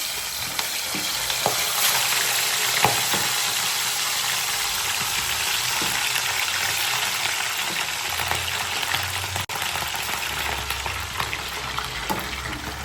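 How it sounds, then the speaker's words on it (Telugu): Fish pieces fry in hot oil in a pan, giving a continuous close sizzle and crackle with occasional louder pops and spits, no voices over it. "అన్ని ముక్కలు సేమ్ యాజ్ ఇట్ ఈజ్గా ఇట్లనే వేపుకోవాలి"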